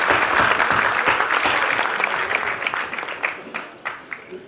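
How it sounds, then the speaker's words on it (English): Room full of people at a student chapter launch event giving a warm round of applause, dense clapping that holds steady and then thins out into scattered claps. "So I'd like to first ask you to give yourselves a round of applause."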